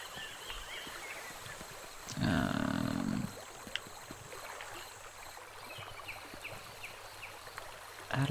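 A waterfall in the video game Dreams makes a constant rushing hiss of falling water throughout, with a louder, deeper burst of roaring for about a second near the middle.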